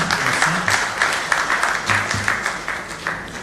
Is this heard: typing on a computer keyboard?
no